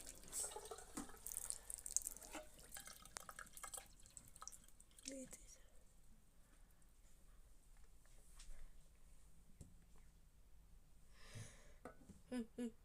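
Water trickles and drips steadily close by, with scattered splashy drops, and a voice talks quietly over it now and then.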